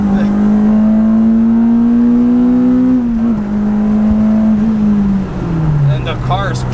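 Honda EP3 Type R accelerating hard in second gear, its engine droning at a steady climbing pitch before a brief dip as it shifts into third and pulls on, loud and close from inside the cabin.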